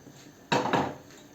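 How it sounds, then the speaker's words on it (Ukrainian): Fried onion, carrot, bell pepper and tomato tip into a cooking pot with a brief clatter and sizzle, a short burst of two bumps against the pot, then quiet. "І отако ми викладаємо у каструлю."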